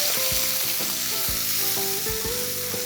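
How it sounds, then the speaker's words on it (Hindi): Ginger, garlic and green chili paste with cumin seeds sizzles loudly and steadily in hot oil, a dense close crackle with occasional stirring clinks and no voices. "तेल गर्म होने के बाद जाएगा ज़ीरा, और ज़ीरे के चटकते ही मैं डाल दूंगा जिंजर,"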